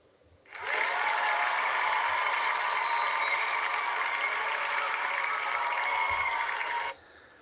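A canned cheering and applause sound effect played during a live stream starts abruptly, holds as a dense, even, bright roar for about six seconds and then cuts off cleanly.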